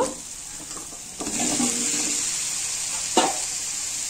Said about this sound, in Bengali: এখন আমি মিষ্টি কুমড় দিয়ে দেব